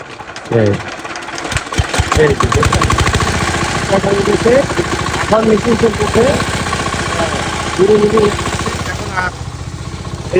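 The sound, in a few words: engine being started and running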